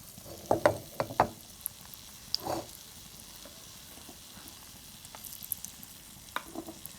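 Pantua pitha batter spread thin on a hot pan gives a faint, soft sizzle with a few sharper scraping taps near the start.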